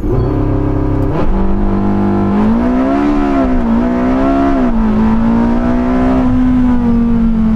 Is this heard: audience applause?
no